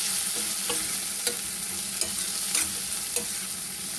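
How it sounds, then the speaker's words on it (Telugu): Spring onions and ridge gourd fry in a pan with a steady, close sizzle, while a spoon stirs and scrapes through them in regular strokes. "స్ప్రింగ్ ఆనియన్స్ అండ్ బీరకాయ కాసేపు వేగాలి."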